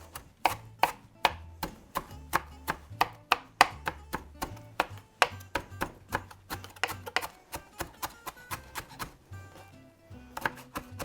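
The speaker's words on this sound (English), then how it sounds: "So we'll chop up, this is about a half a cup of cilantro." A knife chopping fresh cilantro on a cutting board, about a half cup of it, with steady close, crisp taps in a regular rhythm that go on for the whole clip.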